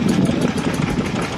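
A steady, close Saab turbo engine idling in a Commer vehicle, with a continuous low chugging rumble, no talk.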